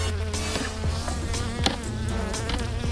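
A dense swarm of bees buzzes around an opened beehive, a loud continuous droning hum with individual bees zipping close past now and then.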